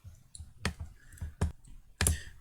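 A computer mouse clicks at a desk during FreeCAD modelling work: a few sharp, close clicks spaced irregularly across a couple of seconds, the last a quick double, with no talk.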